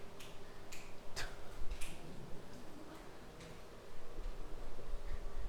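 Several people snapping their fingers in a lecture room, a handful of sharp separate snaps at the start giving way to fainter scattered ones over steady room noise.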